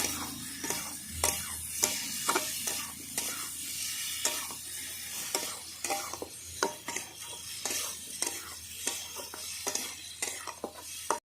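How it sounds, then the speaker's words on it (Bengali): Potatoes with turmeric powder and salt being sautéed in a pan for breakfast aloo dum, a soft continuous sizzle broken by frequent scraping and clinking strokes of a spoon against the pan at an uneven rhythm, with no talking. "হলুদ গুঁড়ো পরিমাণ মতন লবণ ভালো করে আমি এক মিনিট কষিয়ে নেবো"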